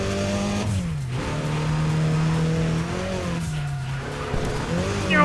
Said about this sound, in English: This car's got the same engine sound as the Chevrolet Cobalt.